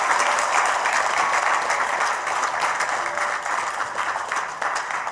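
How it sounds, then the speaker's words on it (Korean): A church congregation at an evening baptism service gives warm, sustained applause for the newly baptized; dense, loud clapping fills the room steadily, easing slightly toward the end. "우리 다시 한 번 더 이분들을 주의 이름으로 따뜻하게 박수해 주십시오"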